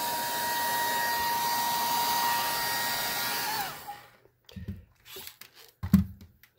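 A 1970s Clairol Son of a Gun men's 1200-watt hair dryer blows with a steady, loud whir for several seconds, then switches off, leaving only faint handling clicks and knocks.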